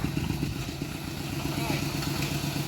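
A farm tractor hauling wood in rural Thailand rumbles steadily and fairly loudly throughout, a dense low engine drone with rattling under talking voices.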